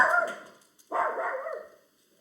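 A small pet dog barks twice in quick succession, fairly close and clear, with a short gap between the two barks and no talking.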